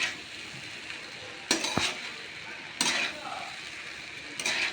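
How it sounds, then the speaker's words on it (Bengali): Fried rice being stirred and fried in a pan, with a quiet continuous sizzle broken by three sharp bursts of spatula scraping and clinking against the metal. "এবার এটাকে ভালো করে রাইসটাকে নাড়াচাড়া করে ভেজে নেব।"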